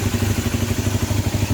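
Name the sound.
motorcycle engine revving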